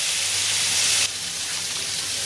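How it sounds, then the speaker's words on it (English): Chicken pieces frying in a pan, a steady close-up sizzle with bright hiss that drops a little in intensity midway, no talking. "we keep stirring and frying until the chicken is beginning to brown all over."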